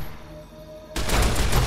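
A car blows up in Fallout: New Vegas with a sudden loud, broadband blast after a quiet lead-in, the explosion roaring on as a sustained rumble.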